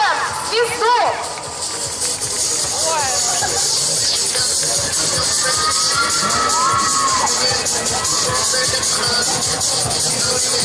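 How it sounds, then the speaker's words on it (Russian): A large crowd cheers and shouts continuously at an outdoor sports forum event, with children's voices and whoops mixed into the dense roar, and some talking over it. "Ваши аплодисменты поддержим звезду."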